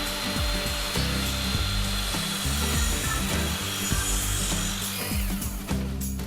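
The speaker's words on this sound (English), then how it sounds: "That's called a plunge cut, right? Yes, that's a plunge cut." A big saw makes a plunge cut into wood during a barn-building renovation, a loud, steady grinding and rasping drone running through the whole stretch without pause.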